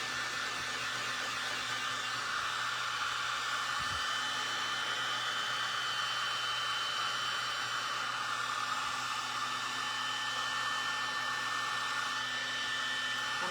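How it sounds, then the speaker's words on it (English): A heat tool blows hot air in a steady, continuous whoosh with a faint high whine, close and unbroken for the whole stretch, with no talking over it. "I need to be careful with this heat tool because it happens so fast that you distort this."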